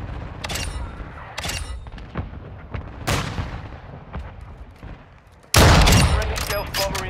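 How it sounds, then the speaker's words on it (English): Gunfire in Call of Duty: Modern Warfare II, with scattered sharp shots and distant booms followed by a sudden loud, sustained barrage of heavy fire near the end. "Taking fire!"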